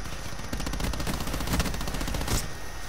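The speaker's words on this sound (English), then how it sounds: "Don't know what he's shooting at." Gunfire in a video game: rapid automatic bursts of shots crackle in quick succession, with a couple of louder, heavier reports standing out near the end.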